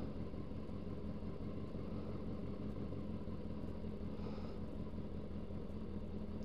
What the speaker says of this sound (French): la moto, elle tourne depuis un petit moment. Elle est au ralenti